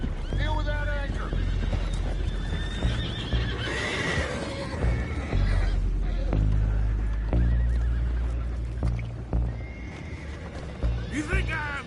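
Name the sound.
horses neighing, video game Red Dead Redemption 2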